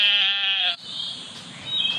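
Goats in a pen bleat loudly and close up, one long wavering cry followed by quieter shuffling and another faint bleat near the end.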